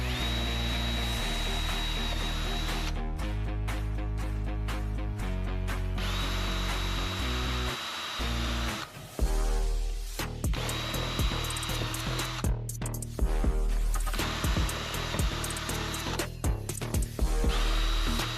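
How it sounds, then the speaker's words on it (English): A power drill whirs loudly and continuously close by, drilling into a Toyota Tacoma's backseat trim panel, pausing and restarting in bursts, with the pitch shifting as it bites into the material. "Drilling always makes me nervous"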